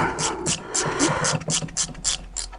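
A ratchet loosens the brake hose banjo bolt on a Dodge Nitro brake caliper, clicking in a quick, steady rhythm of about four strokes per second, loud and close.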